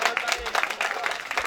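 Audience clapping after a raffle prize announcement for a 32-inch color television at an electric shop owners' association annual picnic in Mirpur; dense, steady applause from a crowd throughout.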